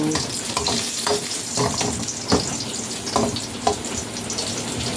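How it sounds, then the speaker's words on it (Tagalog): Garlic fries in a pan for beef caldereta, a close, steady sizzle with occasional scraping stirs and light utensil clicks and no voices. "Lagyan natin yung bawang."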